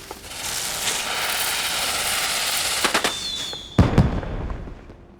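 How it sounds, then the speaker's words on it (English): Fireworks from the game Final Fantasy XIV during the Moonfire Faire, a fizzing, crackling spray that builds and holds, then a few sharp pops and louder bursts near the end before fading out. "if you use a firework and enter G-pose, the entire firework animation will cycle like emotes do"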